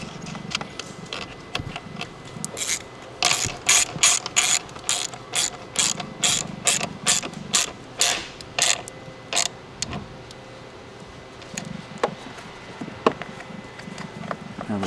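Ratchet wrench tightening a nut on the positive battery terminal of a 5th gen RAM 3500 while fitting a winch cable, a close, crisp series of rapid clicking bursts in uneven runs, with no talking.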